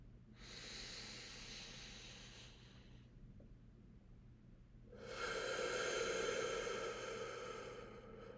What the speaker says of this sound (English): And we're just going to take some deep breaths.